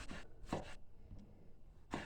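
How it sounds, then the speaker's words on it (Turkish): Three sharp knife chops land on a cutting board, cutting tomatoes, spaced irregularly with quiet gaps between, close and clear with no talking. "Sonra domateslerimi doğruyorum şu an."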